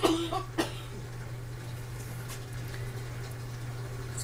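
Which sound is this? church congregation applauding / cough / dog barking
cough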